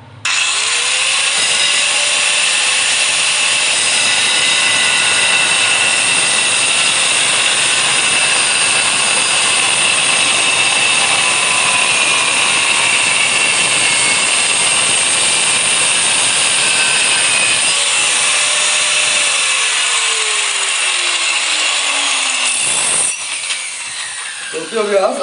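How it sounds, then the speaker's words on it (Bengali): A tile cutter saws through a leftover waste piece of tile, a steady loud high-pitched grinding whine running nearly the whole time before cutting out near the end. "তো এটাকে এখন কেটে দেখবো যে আসলে পাথরটা আমরা ঠিকভাবে বসিয়েছি নাকি ভুল নিয়মে"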